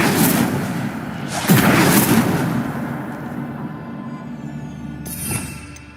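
An Incendio fire spell in Hogwarts Legacy bursts out as a loud booming whoosh, a second blast follows about a second later, then it fades into a quieter tail before a brief final flare.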